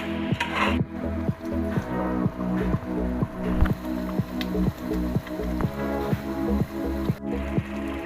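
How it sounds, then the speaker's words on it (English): Masala frying in oil in a cooking vessel for a South Indian chicken curry, with a steady wet sizzle and rhythmic scraping of a spoon stirring continuously throughout, close and moderately loud. "Keep stirring for few minutes."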